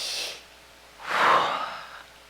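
A voice imitates breathing, a soft breathy exhale followed by a louder, drawn-out airy breath in and out, close and alone with no other sound.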